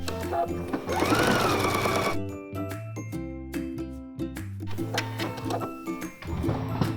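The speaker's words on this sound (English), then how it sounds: "Now let's go over to the machine and sew it up." A sewing machine stitches a slippery coat lining along the shoulder seam in rapid mechanical bursts, pausing and restarting several times with rhythmic needle clatter, close and clear.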